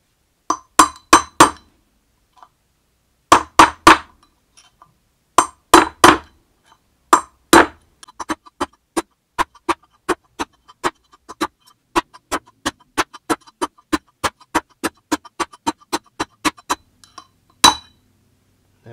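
A hammer strikes the inner wheel bearing race on a Land Rover hub, which is set on a piece of wood, working around it. Sharp metallic clinks come in quick bursts, then as a steady run of single blows, close and loud.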